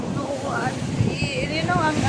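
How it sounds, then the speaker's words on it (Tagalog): Big ocean waves surging up the shore at Mangodlong Rock Resort in the Camotes Islands, a loud rushing surf with wind buffeting the microphone, while excited voices talk and exclaim over the roar. "Ang alon. Umabot na dito sa bandang ito."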